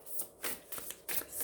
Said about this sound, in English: I'm just going to do a final shuffle.